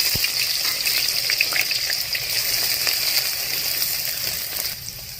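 Onions go into hot oil with whole spices and fry in a continuous, fairly loud sizzle with small crackles throughout, easing slightly near the end.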